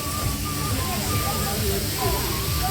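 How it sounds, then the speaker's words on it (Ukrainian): Small water fountains run at Lanzheron beach in Odesa, giving a steady, close splashing hiss with no break, while voices talk over the flowing water. "Ланжерон, працюють фонтанчики."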